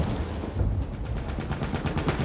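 Rapid light machine gun fire in Battlefield 1 rattles in a fast, even burst of sharp shots, loud and close, running almost the whole time with rumbling battle noise beneath.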